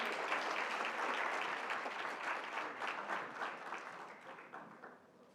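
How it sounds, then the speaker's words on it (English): A convention audience gives a full round of applause, a steady wash of many clapping hands in a large hall, moderately loud, slowly easing off over about five seconds. "Can we have one more round of applause,"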